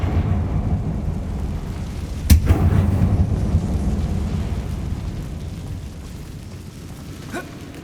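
A Confringo fire spell blasts inside an abandoned mine in Hogwarts Legacy, one sudden booming explosion that rumbles and crumbles away over several seconds, with a fainter second thud near the end under a low ambient drone.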